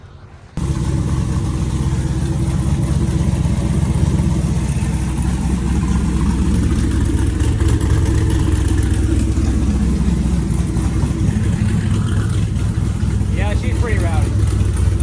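Turbocharged OBS drift truck on a dyno, its engine switching on abruptly and then running as a loud, heavy, continuous roar close by, with a voice briefly audible over it near the end.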